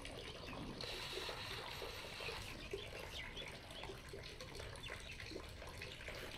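Water pumped through a 2-inch HDPE polythene pipe on a plumbing project rushes out in a continuous, even stream, heard faintly and without a break.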